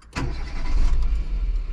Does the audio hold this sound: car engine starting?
yes